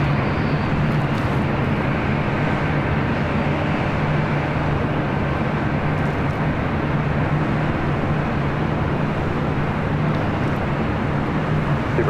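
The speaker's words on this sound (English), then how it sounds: "Boeing 777 landed" A Boeing 777 jet airliner lands at LAX, a loud, steady roar of engine and rushing air that holds evenly for the whole stretch with a faint low hum beneath, no voices over it.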